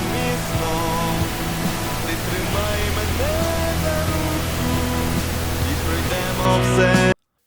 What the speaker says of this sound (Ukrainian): підіймаємо рожевий шум